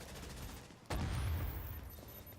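A single sharp, loud sniper rifle shot in The Division during a hard-difficulty raid, cracking suddenly and trailing into a sustained noisy wash of combat ambience.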